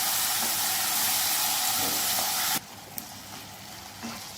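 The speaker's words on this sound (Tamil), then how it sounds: "உருளைக்கிழங்கு சேர்க்குறேன், அதையும் சேர்த்து நல்லா வதக்குங்க" Potatoes sautéing in an oil-filled pan in a home kitchen give a loud, steady sizzling hiss that suddenly drops to a much quieter crackle partway through, with a few faint clinks.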